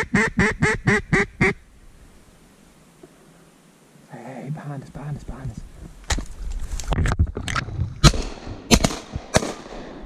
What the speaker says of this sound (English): That's a mallard drake.